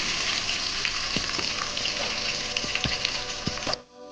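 Chopped onions, bay leaf and star anise fry in hot oil with a loud, dense, crackling sizzle and a few spatula knocks, cutting off abruptly near the end.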